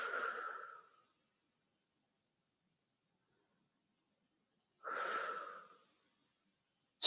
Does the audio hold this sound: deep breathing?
yes